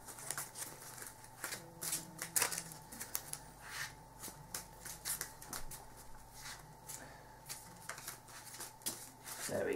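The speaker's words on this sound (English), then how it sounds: "We're going to have a shuffle of our decks." Decks of Cardfight Vanguard trading cards being shuffled by hand: repeated quick riffling, slapping bursts in an irregular rhythm, close and fairly quiet, with no talk.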